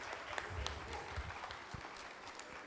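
Quiet, scattered applause from an audience at a ceremony honouring guests, with a few sharper claps standing out over a soft, distant background.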